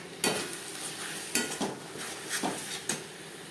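Ground spices with garlic are fried and stirred in a pan with a utensil, giving a soft sizzle broken by several sharp scrapes and clinks against the pan.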